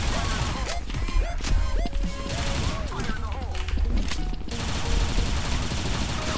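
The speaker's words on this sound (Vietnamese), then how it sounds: "Ở đây anh em sẽ có một cái nội tại là bắn ra điện." Electric energy shots firing in a shooter video game, a dense run of crackling zaps and bursts layered over game music and effects, with a voice talking over them throughout.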